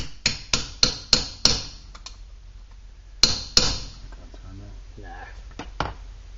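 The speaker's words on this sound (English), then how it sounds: "now I'm going to set these rivets" A hammer sets stainless steel rivets on an antique penny-farthing bicycle saddle, striking a quick run of five sharp, close metallic blows, then after a pause two more, followed by faint rustling.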